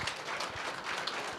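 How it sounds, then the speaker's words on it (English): Audience at a carrom tournament opening ceremony applauds, a brief dense patter of many hands clapping at even volume, heard alone without voices. "A round of applause for Shabnam, please"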